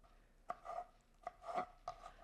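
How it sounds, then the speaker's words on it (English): Three separate quiet chopping strokes as a knife cuts up a hollowed-out tomato on a board, each a sharp tap followed by a short scraping slice, spaced evenly and heard up close with no talking. "then I'm going to cut up the tomato"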